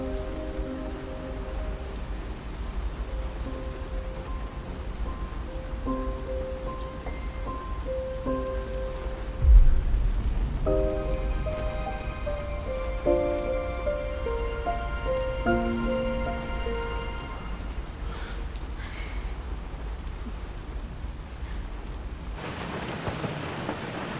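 Steady rain pours down continuously and fairly close, with a dull low thud near the middle and faint tonal music layered over the downpour; no one speaks.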